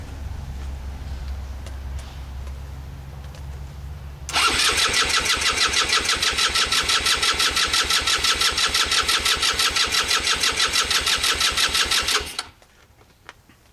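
A derelict old engine cranks with the choke on: after a few quiet seconds, a loud, fast, rhythmic churning runs steadily for about eight seconds, then cuts off abruptly to near silence.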